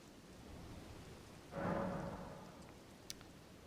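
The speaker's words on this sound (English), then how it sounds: "and it's raining." Rain in the video game Elden Ring, a quiet steady patter that swells briefly into a louder rushing wash, with a single faint click near the end.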